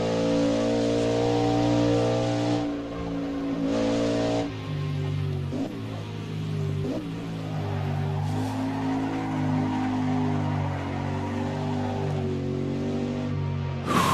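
Race cars in Assetto Corsa at Riverside roar with sustained engine drone, shifting pitch as tires slide and scrub through a big cornering slide, loud and continuous throughout.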